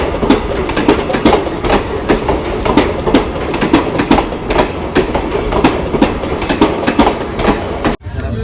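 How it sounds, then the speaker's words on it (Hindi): A passenger train made up of general coaches passes right alongside, loud and close, with a steady rhythmic clickety-clack of wheels over the rail joints that runs the whole time and cuts off briefly near the end. "ये भाई साहब कोई पैसेंजर ट्रेन है पूरी जनरल कोचेस के साथ।"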